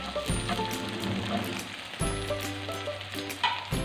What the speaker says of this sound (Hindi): कबाब एक तरफ से फ्राई हो गए हैं। रुख मैं चेंज कर रही हूँ।